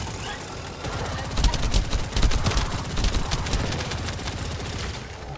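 Rapid automatic gunfire from a bouncy, hard-recoiling gun in The First Descendant, a dense continuous burst of shots for several seconds, loud and close over busy game noise.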